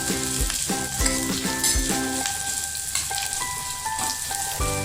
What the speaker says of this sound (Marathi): कांदा छान आपण परतून घेऊ गोल्डन ब्राऊन होईपर्यंत आपल्याला कांदा छान शिजू द्यायचा आहे